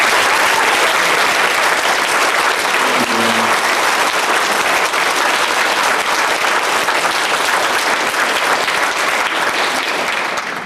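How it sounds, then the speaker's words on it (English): A BotCon 2001 Transformers convention panel audience applauds loudly and continuously, a dense roar of many hands holding at full strength for over ten seconds and fading slightly at the close. "So can we please have a round of applause for them."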